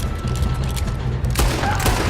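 Gunfire in Red Dead Redemption 2 during a train robbery mission, a dense rumbling volley of shots with a sharper burst partway through, heard over continuous game background noise.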